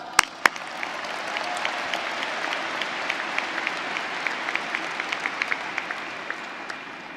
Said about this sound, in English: So for that, give ourselves a round of applause.